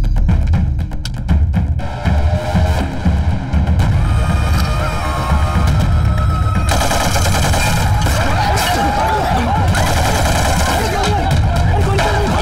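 Handgun gunfire crackles through a Hindi-dubbed action movie scene in loud repeated bursts, mixed with dense music, background noise and voices.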